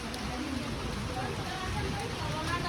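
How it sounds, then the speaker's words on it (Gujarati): Heavy rain falls steadily in a continuous, dense hiss and patter at close range, with an even level and no break through the whole stretch. "ઘરે આવતા જ ગાઈસ વરસાદ ચાલુ થઈ ગયો. જો તમે ધોધમાર વરસાદ."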